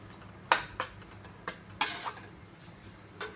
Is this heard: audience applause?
no